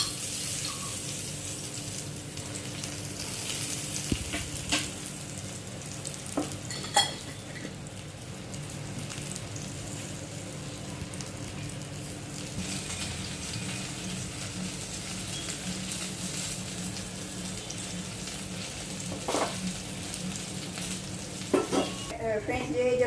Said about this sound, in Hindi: ये जो स्लाइसेस फ्राई हो गए ना, इनको भी मैं टिश्यू पेपर पे निकालती हूँ